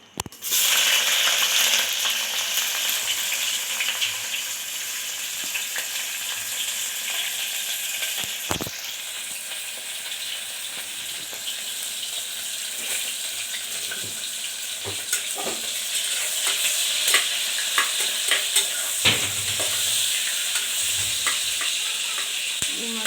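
Chopped onion and green chillies sizzle steadily in hot oil for chicken pulao, a loud continuous fry with occasional scrapes and clinks of the stirring spoon against the pan.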